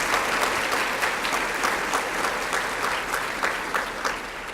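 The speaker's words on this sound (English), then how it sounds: "Let's give her a round of applause." An audience at a teaching workshop applauds steadily, with dense, even clapping from many hands close by that holds throughout with no voices over it.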